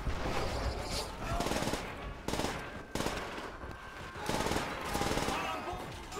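Sustained automatic gunfire rattles through a Call of Duty: World at War firefight, dense overlapping bursts with brief breaks, loud and continuous over battle noise.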